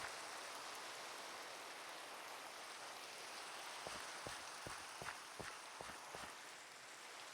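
Steady rain hiss in Minecraft fills the scene, with a series of sharp, evenly spaced taps or drips near the end, no voices.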